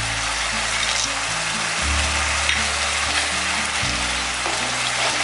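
Taro leaves with roasted peanuts and mung dal fry in a pan, giving a close, steady sizzle and crackle that runs unbroken throughout, with occasional stirring and no talk.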